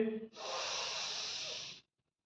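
A single deep breath during a guided relaxation exercise, a brief voiced murmur then a long, steady airy inhale lasting over a second, close and fairly soft, ending in silence.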